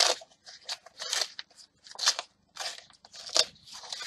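A parcel is cut and torn open up close, with a series of sharp snipping, crackling and crinkling bursts separated by brief pauses.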